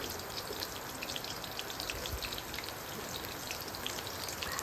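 Sliced onions frying in a pan for prawn pulao, giving a dense, steady sizzle and crackle that runs close and loud throughout with no voices.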